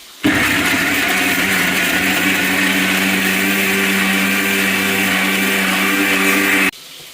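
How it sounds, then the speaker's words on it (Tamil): A kitchen blender grinds tomatoes in a loud, steady whirring drone that starts abruptly, holds for about six seconds, then cuts off. "தக்காளியும் நான் அரைச்சி தான் போட போகிறேன்"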